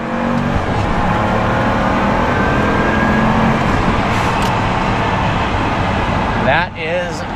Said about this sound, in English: So 6-liter twin-turbo V12, unlike the Zonda that absolutely screams like a straight-piped Murcielago, you pretty much hear nothing but turbos